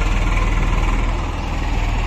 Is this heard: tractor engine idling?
yes